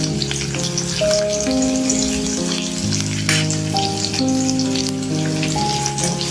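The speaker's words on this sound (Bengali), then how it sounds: "তেলটা গরম হলেই ফোড়ন দেবো প্রথমে দেবো কালো জিরে কালো জিরে থেকে একটা স্মেট দিয়ে দেবো রসুন" Black cumin seeds and garlic sizzle and crackle steadily in hot oil for a lentil dal, a loud, close frying hiss with soft musical tones playing underneath.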